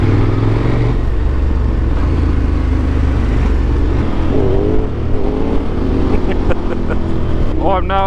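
A motorcycle engine drones steadily during a group ride through the Yorkshire Dales, with wind noise and a few brief rising revs near the end.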